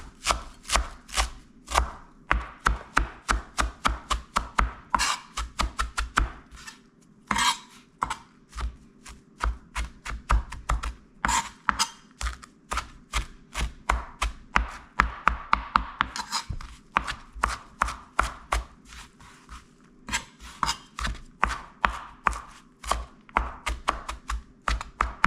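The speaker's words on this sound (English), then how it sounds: "we're going to chop all this cilantro up real fine." A knife chops a bunch of cilantro finely on a cutting board, fast steady knocks repeating close up through the whole stretch, with brief pauses between bursts.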